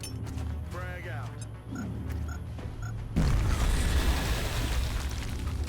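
Frag grenade going off in XCOM: Enemy Unknown, a sudden loud broadband blast that rises out of game noise and a voice, then a sustained rumbling roar and debris clatter for a couple of seconds.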